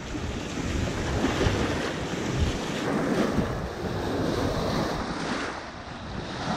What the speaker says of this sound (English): as hard as these waves are pounding